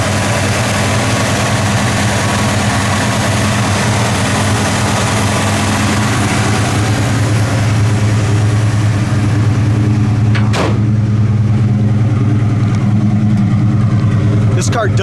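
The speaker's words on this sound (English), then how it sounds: "This car does have a nice custom dual exhaust. Sounds great at idle." A 1961 Pontiac Catalina's 389 tri-power V8 idles through a custom dual exhaust, a loud, steady, deep rumble close by with an even low throb, and someone talks over it.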